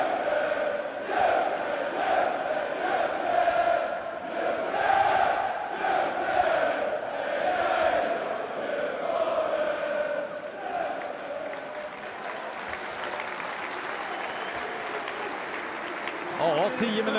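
A basketball arena crowd at a KFUM Jämtland game at Djurgården cheers and applauds in a sustained, swelling roar, with a commentator's voice speaking over the noise before it settles into a softer murmur.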